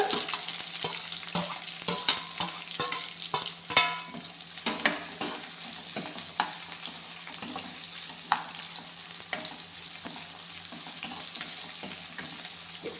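Crushed garlic and onion frying with leafy greens in a pan for a palya, a quiet sizzle broken by irregular scraping and stirring clatters, no speech.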